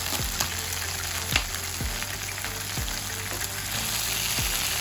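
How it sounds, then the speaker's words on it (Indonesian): Spices and kaffir lime leaves stir-frying in a pan for East Javanese beef rawon, a steady sizzle broken by several sharp scraping knocks of a utensil against the pan. "kita tumis semuanya"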